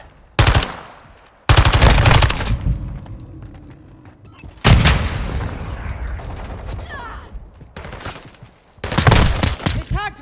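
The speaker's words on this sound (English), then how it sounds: "Semtex incoming!" Call of Duty Modern Warfare II match with a Semtex grenade blast and loud bursts of automatic gunfire in several sharp, close volleys separated by brief lulls.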